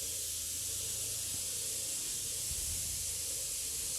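Okra curry in a Bengali vegetarian style simmers in a pan, giving off a steady, even hiss with faint low bubbling underneath and no voices.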